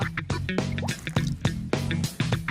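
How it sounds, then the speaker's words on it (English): Green food colouring drips into water, making a rapid run of small, close, distinct drips and plops with liquid splashing. "A little green food colouring in some water."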